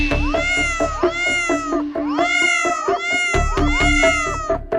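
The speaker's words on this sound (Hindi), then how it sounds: "ये देखो, यहाँ पर बिल्ली का पूरा परिवार है।" A family of cats meowing repeatedly nearby, a string of loud drawn-out meows and wails that overlap one another in quick succession, with no talk.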